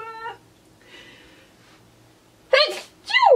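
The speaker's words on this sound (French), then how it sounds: "Où je vais éternuer." A person sneezes twice in quick succession, close and loud, after a short breathy intake and some faint rustling in an otherwise quiet indoor room.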